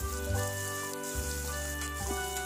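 Onions and green chillies frying in a pan for a white chickpea curry, a soft, steady sizzle over a low tonal hum, quiet and continuous.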